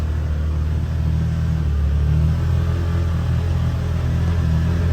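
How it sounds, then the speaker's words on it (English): A 2023 Can-Am Defender HD10 XMR side-by-side in two-wheel drive rumbles steadily through deep snow, a close, continuous low engine drone with no voices. "doing a little riding in the snow"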